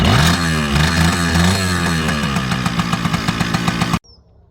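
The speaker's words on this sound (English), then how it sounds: "Kawasaki KM100, just kick it." A Kawasaki two-stroke motorcycle, a KM100 or KE100, runs loud and close with a buzzing, pulsing exhaust note that revs slightly and then cuts off abruptly, leaving near silence.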